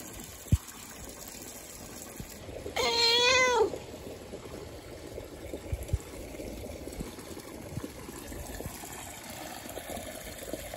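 A cat gives one clear, wavering meow close by, rising over the steady hiss of water pouring and pumping at a bathing pond's retaining wall, with scattered small knocks around it.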